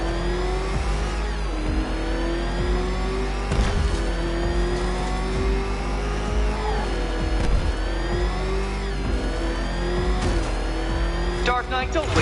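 Car engine in the video game Batman Arkham Knight, revving hard with rising and falling pitch sweeps and gear changes over a steady rumble, continuous and loud, with occasional tire squeals and game voices talking underneath.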